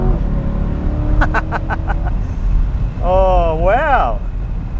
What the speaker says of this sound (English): it's a two-door mid-engine V8 supercar, and it bloody drives like that